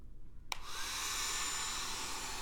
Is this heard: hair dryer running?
yes